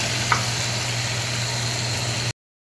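Chicken pieces fry steadily in a little white oil, giving a continuous soft sizzling hiss with one brief stir click near the start, and no voice over it.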